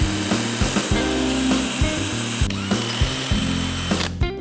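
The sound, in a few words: electric drill drilling a hole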